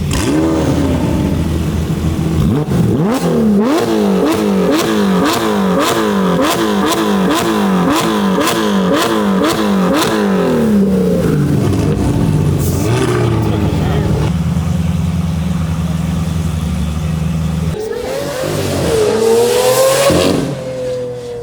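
Supercars including a Koenigsegg Regera, Bugatti Chiron Super Sport and Porsche 918 arrive at a gathering, one engine revving hard in a rapid rising-and-falling series of loud, close blips, then settling to a steady idle before another car moves off.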